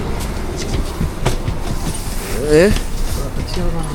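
A tram rumbles and clatters nearby, with a short squeal of wheels on rails and voices talking over it.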